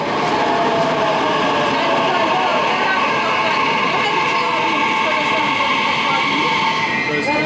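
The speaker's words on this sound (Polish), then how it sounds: "To jest metro bez kierowcy?" A driverless metro train in Turkey runs with a loud, continuous rolling rumble and steady whine, heard from inside as the carriage moves along the track.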